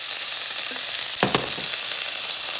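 Sofrito frying in hot oil in a pan, a steady soft sizzle throughout with a brief burst of stirring clatter in the middle; no talking.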